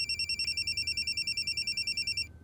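A telephone rings with a steady electronic double-tone pattern, repeating rapidly and evenly for about two seconds before cutting off, moderately loud with no talking.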